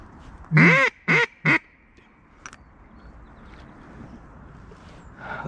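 Mallards quack during a duck hunt: three loud, close, raspy quacks come in quick succession, followed by quiet outdoor ambience.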